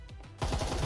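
Gunfire in a tactical shooter game, an abrupt loud burst of rapid shots that breaks in partway through after a quieter stretch.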